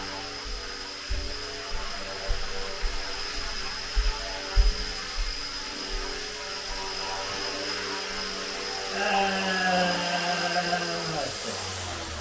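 Fusion 180 RC helicopter hovering indoors, a thin buzzing rotor whine with irregular low thumps, rising in pitch and loudness near the end.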